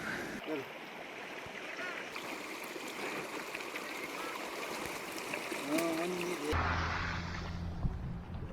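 A little mountain creek trickles and burbles steadily on the Chuanzang Middle Line road in Tibet, heard up close as a continuous wash of running water, with a brief voice and some clatter near the end.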